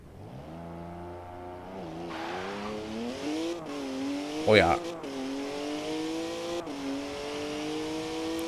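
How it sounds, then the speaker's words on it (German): A car in Forza Horizon 4 accelerating at full throttle, its engine note climbing through repeated gear changes with a brief squeal midway, loud and close, with a short spoken exclamation over it. "Direkt im ersten Gang kann ich nach einer sehr kurzen Zeit schon Vollgas geben."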